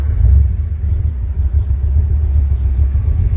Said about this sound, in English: Side pipes just sound so good.